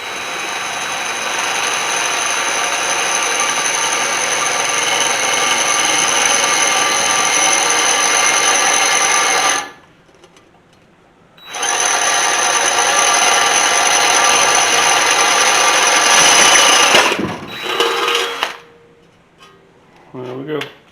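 A power drill whines loudly and steadily, pauses briefly, then resumes with a grinding bite into 16-gauge sheet metal before stopping, with clanks afterward.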